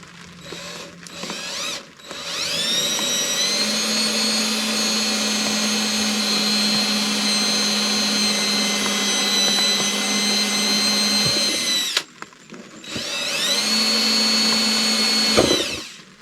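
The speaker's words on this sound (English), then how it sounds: "drill bit through this so I can put a screw through here" A power drill whines steadily at high speed for several seconds, stops, then spins up again briefly, its bit grinding through a hard deer antler nearby.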